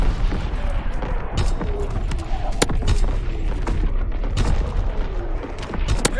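In Call of Duty WW2 multiplayer, an artillery barrage thuds out as repeated heavy booms and sharp blasts over a constant low rumble, with radio-style voices talking through the chaos.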